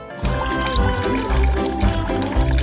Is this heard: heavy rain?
no